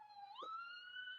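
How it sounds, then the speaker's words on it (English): Fire truck siren passing on a country road, a faint, distant wail that rises in pitch and then holds, with a brief thump partway through. "Oh, that was that fire truck."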